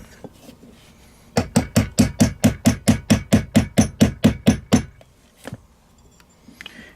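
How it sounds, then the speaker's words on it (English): Nylon end of a hammer tapping a CZ 75 pistol's rear sight: about fifteen sharp, evenly spaced metallic taps in a quick steady rhythm, close and clear, followed by a few scattered softer knocks. "I'm going to take the nylon end of my hammer and just tap it"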